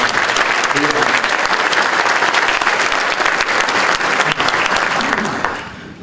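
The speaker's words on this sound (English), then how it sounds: "I know I'm in the right crowd when a Marine stands up and gets a standing ovation" A luncheon crowd at a chamber of commerce event gives a standing ovation to a Marine, with loud, dense, continuous clapping that holds steady for several seconds before tapering off at the end.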